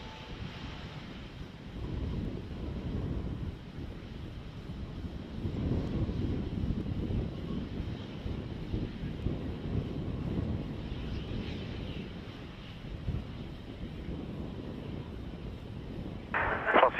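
An airliner takes off from a runway at Brisbane airport, its engines a low sustained roar rising and swelling at a distance, mixed with wind buffeting on the microphone.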